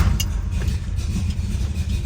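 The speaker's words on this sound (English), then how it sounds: "let's fire it up and you can hear what it sounds like" A 1969 Plymouth Roadrunner engine starts and rumbles with a deep, steady low growl, close by and alone, with no talking.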